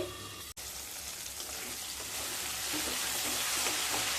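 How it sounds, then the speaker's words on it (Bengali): Spices for a paneer and potol curry sauté on low heat in a pan after a splash of water is added. The steady, close sizzle has a split-second break near the start. "লো স্টিমে মশলাগুলোকে ভালোভাবে কষিয়ে নিয়ে তারপর ফিরে আসছি"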